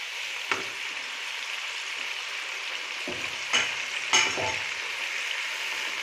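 Large tomato pieces frying in oil in a pan while vegetable pulao is cooked, giving a steady soft sizzle with a few brief stirring clatters, no talking.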